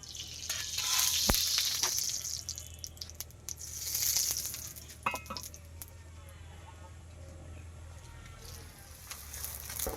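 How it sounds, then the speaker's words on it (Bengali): Paratha sizzling in a hot pan, a steady soft frying hiss with occasional louder crackles and spatters, heard alone at moderate level in a home kitchen. "পরোটা ভাজা হচ্ছে"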